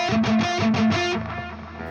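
A delay effect with a big tail in a song mix: a few repeating tonal notes echo, then a long fading tail trails off on its own.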